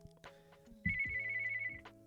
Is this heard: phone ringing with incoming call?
yes